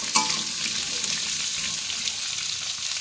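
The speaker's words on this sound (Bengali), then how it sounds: "এইগুলো লবণ দিয়ে একটু হালকা হালকা করে ভেজে নেব। খুব কম তেলে রান্না হচ্ছে।" Potatoes and papaya fry lightly in very little oil with salt, a soft, continuous sizzle close by with a faint stir or clink near the start and no talking.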